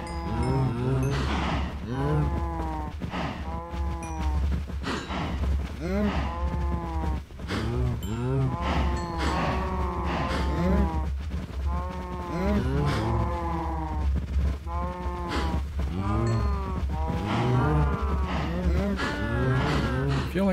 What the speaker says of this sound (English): Should also feed the cows.